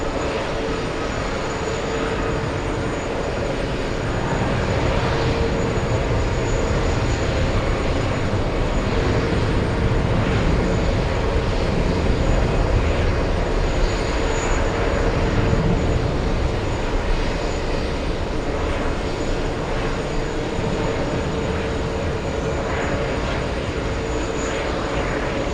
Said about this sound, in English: We're going to have American Airlines, the first one. This is the one heading to Madrid.